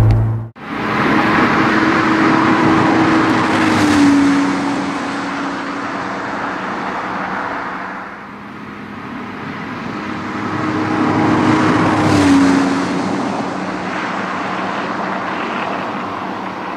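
A Porsche 997 MKI Carrera with SCART exhausts drives by, its loud engine note rising and falling in two long sweeps as it passes close.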